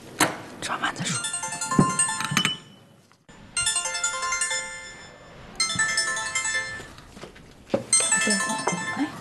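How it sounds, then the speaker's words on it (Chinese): A phone ringtone rings in short repeated bursts with brief gaps between them, loud and close in a domestic setting. "谁来的电话呀？"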